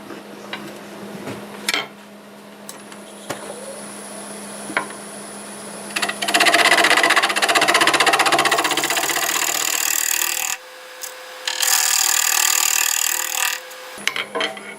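Wood lathe turning a bowl, the gouge cutting in bursts of loud rough scraping and hissing over the steady hum of the spinning machine, with short pauses between passes, close up and no talk.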